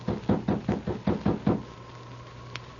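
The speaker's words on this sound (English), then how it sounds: "Sergeant Preston, with King at his side, knocked on the door of Paul Hubbard's cabin." Seven sharp knocks on a wooden cabin door, a radio drama sound effect, rapped in a steady evenly spaced rhythm, close and loud, followed by a quiet pause with a faint hum.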